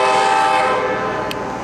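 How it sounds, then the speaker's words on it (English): An Amtrak Metro train rumbling across a Chicago river bridge, loud and close, its steady roar holding for a short stretch with a faint horn blast near the end. "We definitely are going to get to see a train."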